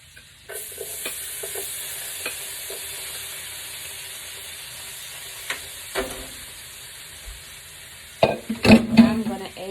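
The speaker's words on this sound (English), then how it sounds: "And I am going to throw our onions right in the pan." Onions go into a pan of melted fat and fry with a steady, moderate sizzle, punctuated by a few scattered clicks and taps, then a busier burst of clattering and stirring near the end.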